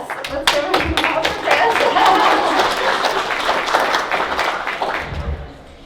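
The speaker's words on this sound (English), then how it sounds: "let's give him a applause" Audience applause at a university computer laboratory dedication honoring a retiring professor, a dense wash of many hands clapping steadily for several seconds before tapering off.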